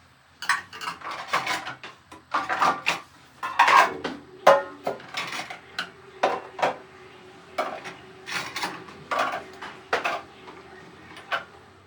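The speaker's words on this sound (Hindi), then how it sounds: "रात के बर्तनों की बास्केट जो कि पूरी भरी हुई थी, तो उसको मैंने खाली कर दिया है।" Dried dishes, pots and cutlery are unloaded from a full basket in a home kitchen, giving a steady series of close, loud clinks, clatters and scrapes of metal utensils and vessels, with no talking.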